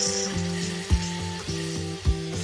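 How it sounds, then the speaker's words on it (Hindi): Green chutney frying in a pan for poha, a bright sizzle with a couple of soft stirring knocks, set under steady background music. "चटनी हमारी भुन चुकी है।"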